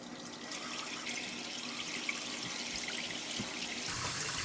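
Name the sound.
water running from newly installed Delta Corin wall faucet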